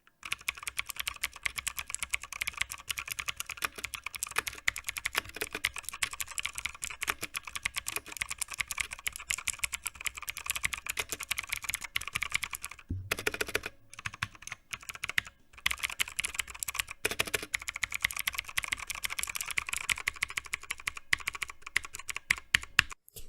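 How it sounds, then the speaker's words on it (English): Fast, continuous typing on a budget mechanical keyboard, its switches clacking in a dense close-miked patter from directly above, with a couple of brief pauses midway before the keystrokes resume. "I'm going to give you a little listen on how these switches sound, by using my main microphone, the XM8500, pointed directly down at the keyboard."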